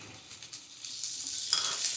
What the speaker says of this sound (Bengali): শিমটা দিয়েও আমি এখানে 2 মিনিট মতো ভেজে নেব।